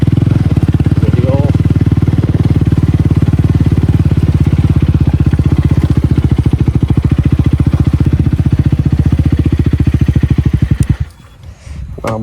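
A KTM Duke 250 Gen 3 motorcycle with its stock exhaust idles loudly and close, a deep, rapid, even thump that runs for about eleven seconds and then cuts off.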